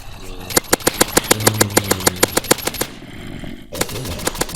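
Rapid bursts of gunfire from modded guns in vanilla Minecraft 1.14.4, a fast evenly spaced volley of about fifteen sharp shots with a low droning tone under the middle, then a pause and a few softer pops.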